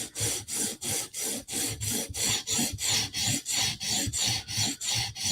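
A Spyderco knife with VG10 steel is sharpened on a stone, about fifteen rhythmic rasping strokes close up, each a scratchy swipe with brief gaps between, no voices.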